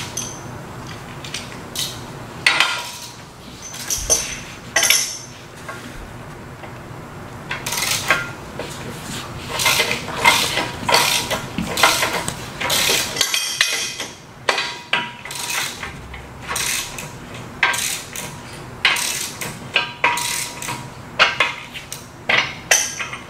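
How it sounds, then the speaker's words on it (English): Metallic clanks, taps and clinks of tools on bolts while tightening a three-point hitch during installation, irregular and close, with bursts of knocking and scraping and no talking. "we're going to tighten up a couple of bolts here just for example"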